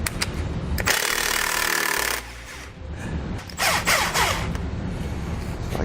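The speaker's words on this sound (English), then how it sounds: "Take a 3/4 inch socket and we're going to loosen the nuts." A 3/4 inch socket loosens suspension nuts while SumoSprings helper springs are fitted. It makes loud, close, rattling bursts of mechanical hammering, one long run followed by a shorter second burst.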